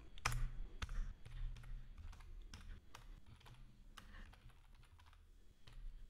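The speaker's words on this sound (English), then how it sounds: "open a command prompt or PowerShell terminal and type the following command" Keys tapped on a computer keyboard while a command is entered, in a quiet run of clicks and a few sharper strikes, close and fairly soft, with no one talking.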